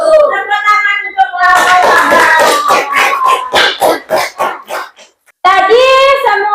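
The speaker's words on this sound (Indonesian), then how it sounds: "Tepuk tangan untuk" Classroom audience applause during a problem-based learning teaching session, a burst of brisk clapping of a few seconds with a voice speaking before and after it.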